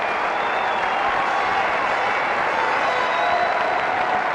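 Cricket crowd at a New Zealand versus England test in Auckland breaking into sustained applause and cheering as they stand for a rapid fifty, a dense, steady roar of clapping filling the ground throughout.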